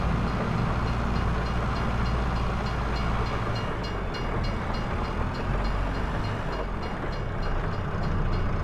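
Steady rumble and rolling clatter of a train being pulled forward in Farming Simulator 22, continuous and fairly close, with faint rhythmic wheel clicks running through the whole stretch.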